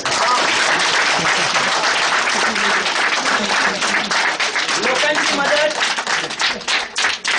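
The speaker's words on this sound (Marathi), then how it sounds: "एकदा जोरदार टाळ्या आपल्या सगळ्या गावाच्या" Loud, sustained applause from an audience at a village parents' meeting, dense clapping filling the whole stretch with scattered voices and cheers mixed in, tapering slightly near the end.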